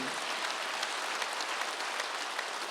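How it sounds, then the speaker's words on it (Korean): Applause from a church congregation during a Wednesday worship service, a steady wash of many hands clapping at moderate loudness, unbroken for a few seconds. "박수."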